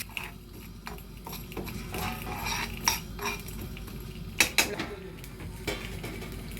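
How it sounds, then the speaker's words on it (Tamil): Fennel seeds, cumin and black pepper dry-roasting in a pan for a crab curry, with a spoon scraping and clinking against the metal in irregular taps and scrapes at close range, no talking. "இவ்வளோத்தையும் லைட்டாக நான் வறுக்க போகிறேன்"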